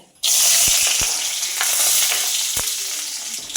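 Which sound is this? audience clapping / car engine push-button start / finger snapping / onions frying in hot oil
onions frying in hot oil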